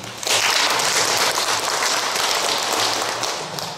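Room-filling applause from members at a general assembly meeting, a dense burst of clapping that starts abruptly and holds steady for several seconds before easing slightly.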